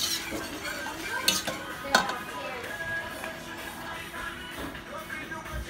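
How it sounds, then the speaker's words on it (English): Spices are whisked into condensed and evaporated milk for an eggless Ponche Crème, giving a steady close stirring and clinking of a whisk against a bowl, with a few sharper taps throughout. "I'm whisking together the spices with that condensed, that evap."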